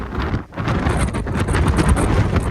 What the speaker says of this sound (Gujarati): ખાલી અવાજ જુઓ પવન નો